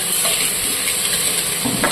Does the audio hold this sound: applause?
no